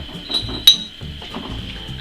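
Glass beer bottles clinking against each other as they are primed during bottling of a malt rye bread kvass: light irregular clinks and taps at close range, with one sharper clink partway through.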